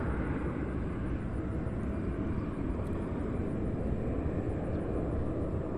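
An American Airlines Embraer E175 taking off from Cincinnati's CVG airport, a dense, steady low roar of jet thrust at moderate distance, continuous and unbroken, with no one talking.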